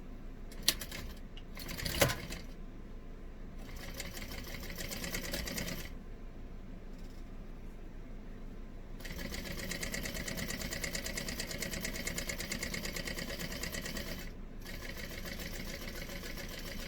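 A sewing machine topstitches along the top edge of a tote bag, whirring in several close runs separated by short pauses, with a few small clicks at the start.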